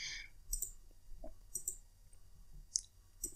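Sharp computer mouse clicks, about six in a few seconds at an irregular pace, sound close and alone in a quiet room while CAD Rays rendering software is operated.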